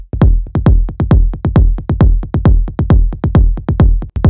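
Techno kick drum run through a fully wet delay with short feedback: loud booming kicks repeating rapidly, each followed by echoed thumps that blur into a dense, rolling rumble.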